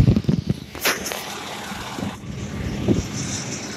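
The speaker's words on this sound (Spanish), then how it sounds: "el helicóptero ahí está comenzando a bajar" A helicopter descends over a large fire in northeast Portland, its rotor and engine a broad rumbling wash at middle distance, mixed with wind noise and scattered outdoor clatter.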